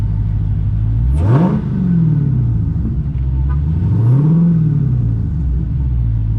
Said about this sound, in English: let's do a little RPM comparison. And then hold it.